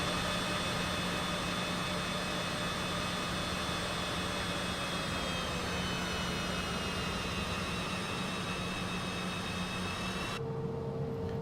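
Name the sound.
CJ4 private jet taxiing in flight simulator game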